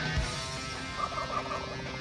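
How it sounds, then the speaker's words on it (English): Wild turkeys gobble at a distance, a brief faint rolling gobble rising midway through over steady outdoor background noise. "I can hear turkeys gobbling again, man."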